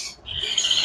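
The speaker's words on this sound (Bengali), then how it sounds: "এত সুন্দর কোয়ালিটিফুল সানকনুরের বেবি।" Baby sun conure parrots at a bird market give a short shrill squawking call, brief and fairly close, with nothing else heard.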